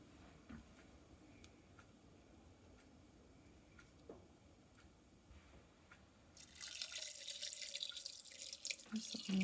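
Water pours from a tap into a pan of rendered bacon grease, beginning after a stretch of quiet kitchen noise with faint drips and becoming a steady, gushing hiss that runs to the end.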